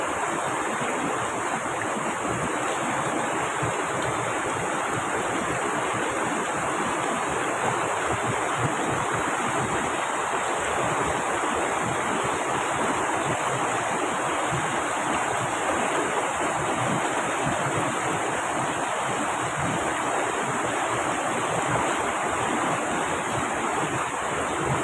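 Clean water flows in a stream, a dense, constant rushing wash that fills the whole stretch without pause, close and steady, with no voices.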